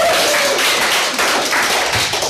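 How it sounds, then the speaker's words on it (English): An audience at an evening live show gives a round of applause, dense steady clapping that fills the room loudly and continuously from start to end. "round of applause for Renaissance again"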